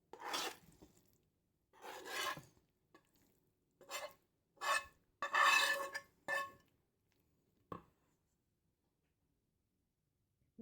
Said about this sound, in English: Now with the back of the spoon you have to mix it together so that vegetables will spread evenly with meat.